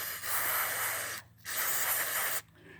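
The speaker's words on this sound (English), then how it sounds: "So basically, you can go up in here and spray right there." Aerosol lubricant sprayed onto the cam switch motor assembly of a Rowe record and CD jukebox: two long, steady hissing bursts, each lasting over a second, separated by a short pause, close and loud with no talking.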